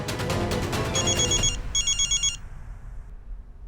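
A telephone rings loudly in a TV sitcom scene, a trilling electronic bell sounding in two bursts before cutting off into quiet room tone.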